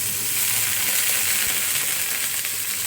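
Onion and tomato dropped into hot oil in a pan, a loud, close, steady hiss of frying that holds without a break and has no voice over it.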